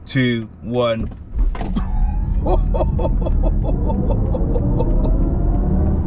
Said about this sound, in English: we're going to do a 0 to 60 using the boost button and see what this car does